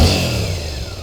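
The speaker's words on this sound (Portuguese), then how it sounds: "Mesmo com o escape original, ela tem um ronco bem grave, bem gostoso de ouvir." A Suzuki 8S motorcycle on its stock exhaust gives a short, deep engine rumble that fades slightly as the revs drop, close and loud with no talk.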